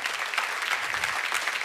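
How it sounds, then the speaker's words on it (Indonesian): Concert audience applause at a live show, a brief burst of dense clapping from a crowd, steady and moderately loud throughout. "Kita berikan tepukan kepada artis-artis undangan kita"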